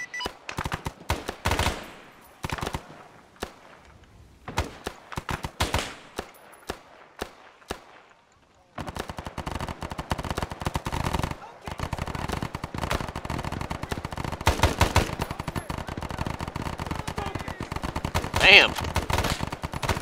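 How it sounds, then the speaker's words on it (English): Machine gun fire during the Battle of Lumphat: sporadic bursts and single shots at first, then sustained, rattling automatic fire with other weapons joining, moderately distant, mixed with faint radio voices. "Somebody's on a machine gun."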